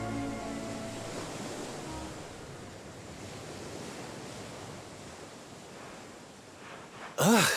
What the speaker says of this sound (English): And there it is, the open ocean, right there in front of us